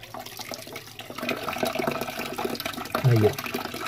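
Reddish clay water poured off while panning for gold from a crushed brick, a splashing, trickling flow that swells into a louder gush near the end, with faint background noise.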